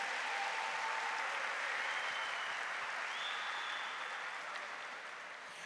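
Sustained applause from a church audience during a sermon, a dense even clatter of many hands that stays loud throughout and fades slightly at the end, with no talking over it.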